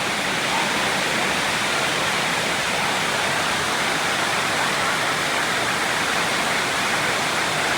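Rain falls steadily and heavily, a dense, continuous hiss of downpour that stays loud and even throughout, with no talking over it.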